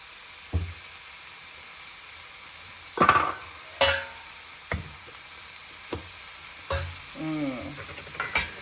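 Carrots stir-fried with grated coconut in a pan produce a faint, low sizzle, with a handful of separate scrapes and clinks from a spatula against the pan spread across the stretch.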